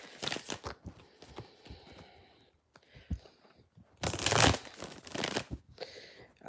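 Tarot cards being shuffled, with soft, close riffling and papery crinkling in uneven bursts and a louder flurry near the end, with no voices.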